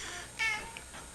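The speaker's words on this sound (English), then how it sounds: "That's my cat, by the way." A pet cat gives a single short meow indoors, fairly close and moderately loud, followed by a faint second chirp over a quiet room hum.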